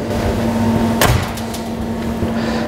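A pan of corn-fed chicken breast goes into an oven set to 180 degrees, with one sharp clack of the oven door at about the one-second mark over a steady low appliance hum.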